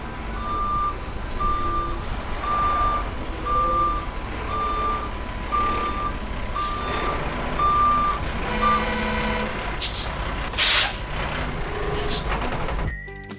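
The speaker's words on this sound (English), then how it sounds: "It's a blue and yellow dump truck." A blue and yellow dump truck gives a steady series of evenly spaced reversing beeps, then a sharp hiss of air brakes over a low engine rumble.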